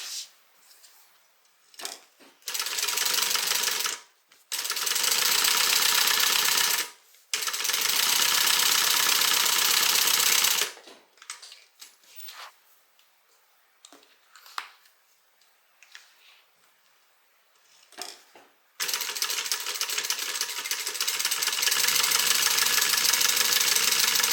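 A sewing machine top stitches the lining of a sling bag in several long, loud, steady runs of rapid stitching, broken by short pauses and quieter handling noises between bursts.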